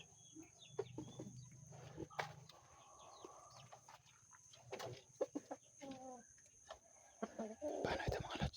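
Chickens cluck behind a house, with soft, scattered clucks and calls at moderate distance amid quiet rustling and faint background noise.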